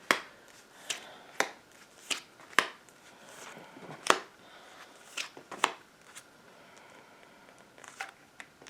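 Oracle cards are shuffled during a love reading: a run of crisp, separate riffling snaps and slaps at irregular intervals, close and moderately loud, with soft papery rustling between them and no voices.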